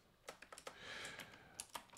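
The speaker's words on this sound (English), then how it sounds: "I have a hard time typing well all the time." Typing on a computer keyboard, a quiet, uneven run of close-up key clicks and taps over about two seconds, with no voices.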